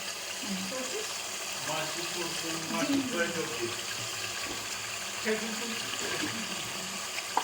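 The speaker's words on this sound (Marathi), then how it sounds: "आता ह्याच्यामध्ये मासे सोडते" Pieces of fish go into a red masala paste frying in a pan, giving a steady, moderately quiet sizzle and crackle that holds evenly throughout with no clear voices.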